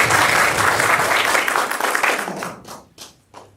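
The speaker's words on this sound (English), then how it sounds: "Give an applause for" Attendees at a school district governing board meeting applaud in a brisk burst of many hands, which thins after a couple of seconds into a few scattered, isolated claps before stopping.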